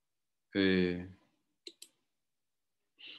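Computer mouse clicks as Ether is chosen as a payment option: a quick pair of crisp, close clicks, with a voice heard briefly just before and after.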